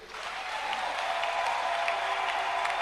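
A church congregation breaks into sustained applause, a dense, even wash of many hands clapping that swells slightly and holds steady throughout, with no clear talk on top.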